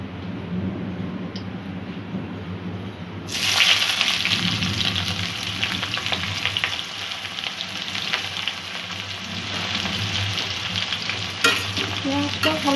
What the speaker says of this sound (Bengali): পেঁয়াজটা ভালো করে একটু ভাজা করে নেব।